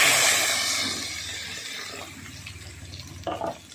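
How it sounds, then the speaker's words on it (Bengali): Water poured into a pot for a thin Bengali pabda fish curry with potato and aubergine, a loud rushing splash at first that fades to a quieter trickle, with a few clinks near the end. "এবারে আমি পরিমাণ মতো জল ঢেলে দিচ্ছি"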